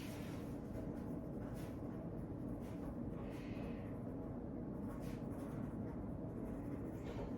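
A pen scratching out a sentence on a sheet of paper during a mental status exam, faint intermittent strokes over soft room noise, no talk.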